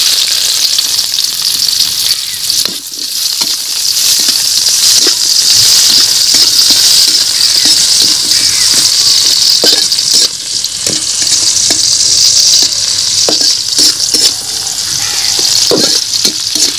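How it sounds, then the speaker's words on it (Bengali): Chopped onion and garlic sizzle loudly in hot oil in a pan, a dense continuous hiss broken by the scrape and clack of a spoon stirring. "তেল আমি এখানে পেঁয়াজ কুচি আর রসুন কুচি একসঙ্গে দিয়ে দিব।"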